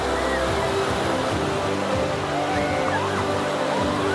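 Flood water from heavy rain in Toopran rushes in a loud, continuous roar close by, with faint crowd voices in the background.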